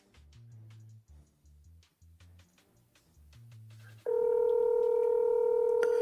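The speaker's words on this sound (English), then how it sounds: "I hear the phone ringing." A landline telephone in a home: first a run of soft, short stepped tones, then a loud steady ring tone that starts abruptly and continues to the end.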